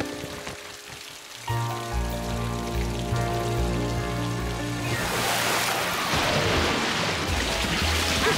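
Cartoon rain pours steadily onto a camping trailer, a dense hiss that swells louder partway through, with low rumbles of thunder underneath and no voices.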